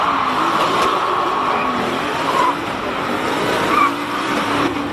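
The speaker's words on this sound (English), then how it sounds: "James Temple just trying to get some heat into the rear tyres" Race car at a hill climb event spinning its rear tyres to build heat, giving a steady, loud engine roar with tyre squeal running throughout, rising briefly in bursts near the middle and end.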